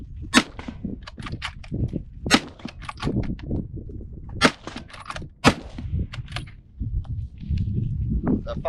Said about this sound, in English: So first up, just your turn bolt, Granddad's hunting rifle.